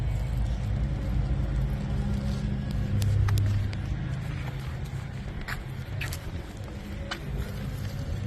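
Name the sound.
Godzilla-swapped early Bronco engine through Flowmaster exhausts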